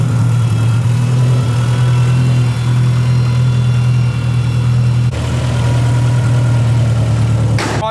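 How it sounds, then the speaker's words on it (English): Turbocharged 1100-horsepower Subaru STI idling after a cold start, a steady deep engine drone held for the whole stretch with a brief dip midway and a sharper burst at the very end. "Man, am I gonna miss the sound of this turbo."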